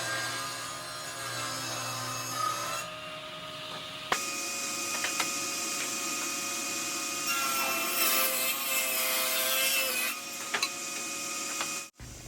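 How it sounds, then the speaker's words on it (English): A table saw rips wooden boards with a loud, steady whine that drops out and restarts, continuous and near, ending with a brief thump, with no talk. "I can bring them to the table saw. Here I can rip them to a slightly wider width than is ultimately needed."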